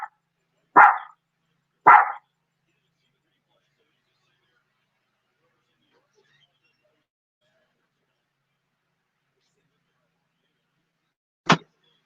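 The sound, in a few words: dog barking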